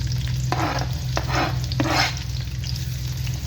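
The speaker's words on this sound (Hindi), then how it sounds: "प्याजों को हमने अच्छे से फ्राई कर लेना है।" Onions frying in cooking oil in a kadhai, a steady sizzle broken by several scraping stirs in a loose rhythm, set against a low constant hum from the stove or kitchen.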